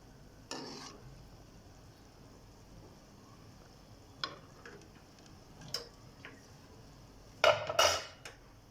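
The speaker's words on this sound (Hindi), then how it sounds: "और इसमें चम्मच हिलाएंगे, इसका साइड चेंज करेंगे।" A spoon stirring rasgulla in a cooking pot over low flame, scattered metallic taps and clinks against the pot, faint and sparse early on, then a quick cluster of louder knocks toward the end.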